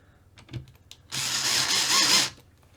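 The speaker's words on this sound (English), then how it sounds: "I always like to have the driver set on low torque when I'm going into plastic." An electric screwdriver on low torque drives small silver screws into a plastic Tamiya TT-02 RC car chassis: a few light clicks and handling taps, then a single close, loud whirring run of about a second and a half, no talking.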